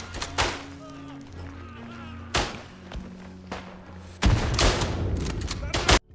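Bolt-action rifle shots ring out in the World War I shooter Isonzo, with a few sharp cracks spaced apart, then a heavier burst of gunfire and impacts toward the end, over a low droning background.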